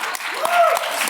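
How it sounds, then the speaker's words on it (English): A short burst of audience applause, steady clapping at moderate loudness with a faint murmur of voices mixed in. "Let's give a round of applause for that."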